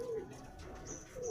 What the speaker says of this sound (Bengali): আমার বাড়ির গিরিবাজ পায়রা।